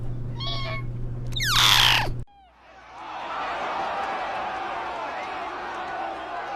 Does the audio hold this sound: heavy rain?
no